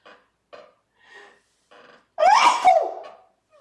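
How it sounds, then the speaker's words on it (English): A few soft breathy inhales build up, then one loud, close sneeze bursts out and trails off. "And I'm going to sneeze."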